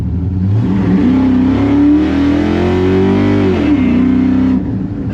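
A Chevy C10 pickup truck with a swapped-in LS V8 accelerates hard, its loud, deep engine note rising steadily in pitch and then easing back, heard up close and continuous with no talking.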